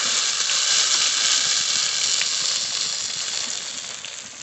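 Spices and pastes hitting hot fried onions in a pan for chicken curry, giving a bright, continuous sizzling hiss that starts strong and slowly eases, with no talk.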